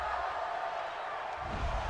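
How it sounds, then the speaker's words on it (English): Football stadium crowd at a Tampa Bay Buccaneers vs. Carolina Panthers game reacting to a penalty call: a steady, broad roar of many voices, swelling slightly near the end, with faint commentary beneath. "Well, this crowd does not like that call."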